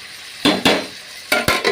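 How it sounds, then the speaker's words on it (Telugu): Brinjal pieces frying in a pan for a dried prawn and brinjal curry, stirred in four sharp, loud scraping bursts of sizzle separated by short quieter stretches, close up and without speech. "5 నిమిషాలు అయిన తర్వాత వంకాయ ముక్కలు ఇలా అన్నీ కూడా ఈవెన్గా ఫ్రై అవ్వాలి"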